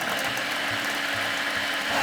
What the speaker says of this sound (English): I got my beets in the food processor jug and I'm going to make a beet puree.